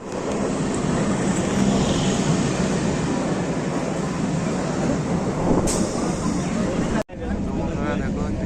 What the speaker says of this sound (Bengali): বন্ধুরা দেখো ট্রেনে উঠে পড়েছি